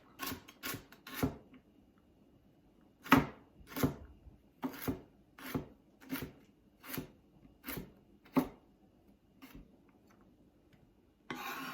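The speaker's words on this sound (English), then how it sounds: "And then let's chop it." Knife chopping vegetables on a cutting board for a wild rice corn chowder, about a dozen sharp, close knocks in an uneven rhythm with short pauses between them.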